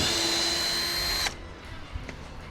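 A power drill removes screws from the tailgate of a square drop camper, whining loudly and steadily for just over a second before cutting off, followed by quiet handling noises.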